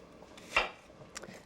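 A knife chopping red sweet onion on a board, with one clear close chop followed by a fainter second cut, with no talking.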